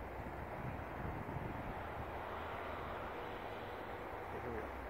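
A Volantex ASW-28 RC glider's electric motor runs at full throttle outdoors, a steady broadband whir mixed with wind noise, fairly faint and continuous.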